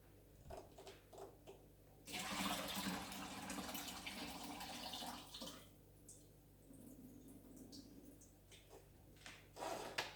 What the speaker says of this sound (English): I'm gonna drain the juice from this